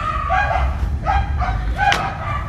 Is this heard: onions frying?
no